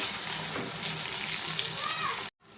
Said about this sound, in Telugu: మనం వేసుకున్న మసాలా అయితే బాగా ఫ్రై అయిందండి ఇప్పుడు దీంట్లో మనం కట్ చేసుకున్న ములక్కాయలు ఈ ములక్కాయలకి ఈ మసాలా పట్టేంత వరకు మనం కలుపుకున్నామండి